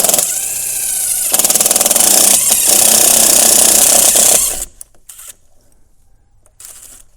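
Power drill boring through a double top plate of a wall, a loud steady whine lasting about four and a half seconds before cutting off, followed by faint rustling and handling noise.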